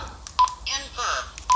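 A Weircom WR-Q7 dual-band handheld radio plays its roger beep, short electronic tones at the start and end of a brief transmission with a garbled warbling burst between them, heard close while someone speaks.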